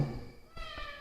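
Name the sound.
cat meowing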